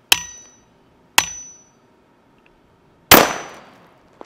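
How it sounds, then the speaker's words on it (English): Concrete nail gun fires into a lithium-ion battery: three sharp, loud metallic bangs, two early and one heavier near the end, each ringing out briefly with silence between. "I'll use a nail gun that is usually used for concrete."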